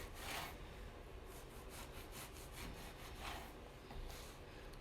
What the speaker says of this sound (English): Just think of it as if it was a potato, but you're just cutting it with a serrated knife.